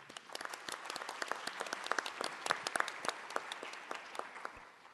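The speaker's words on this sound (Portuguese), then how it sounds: "vamos saudá-la com uma salva de palmas" An audience at a public health policy panel applauds, a moderate patter of many hands clapping steadily for five seconds, fairly quiet and even, with no voices over it.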